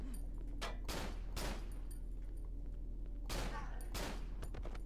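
Video game gunfire crackles in several sharp bursts, a cluster early, another pair later, under a constant electronic hum.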